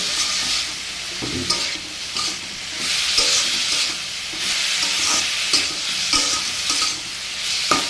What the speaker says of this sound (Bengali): এবার এটাকে মিশিয়ে ঢাকা দিয়ে